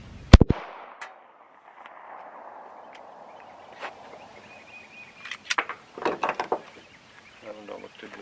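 A 9mm 115-grain standard ball round fired into a bulletproof backpack insert gives one sharp, loud crack at the start, followed by quieter handling clatter, a few clicks and scattered bursts of noise.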